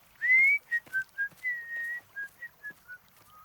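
A person whistles a short tune in an animated children's show: a bright rising opening note followed by a string of clear, separate whistled notes, close and alone.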